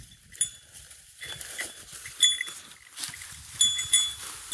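Cattle, buffaloes and goats move into a village shed in rural Konkan, with scattered bell clinks, soft hoof knocks and animal shuffling, moderately near with no clear talk.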